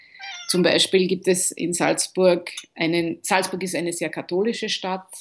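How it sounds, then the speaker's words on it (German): A house cat meows in a few high, wavering calls, mostly at the start, while someone speaks German close by and keeps talking over them. "Das ist meine Katze."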